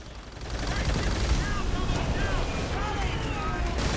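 A mounted front gun fires back at an enemy attack in the World at War campaign on Veteran difficulty, a dense continuous roar of gunfire and battle noise with whistling streaks overhead, loud and unbroken.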